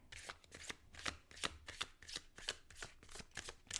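Oracle cards shuffled by hand in a quick series of crisp, papery flicks and slides, steady and close, with no voices.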